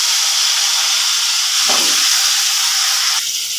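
Cut drumstick pieces dropped into hot oil, giving a loud, steady hissing sizzle that swells briefly midway then eases slightly, close up and without any talk.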